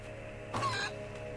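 A chicken in the video game Fable 2 gives a single brief cluck, fairly faint over a steady background hum.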